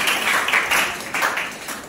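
Students in a school inter-house quiz competition clap together for Red House, a dense, steady burst of applause filling the whole short moment.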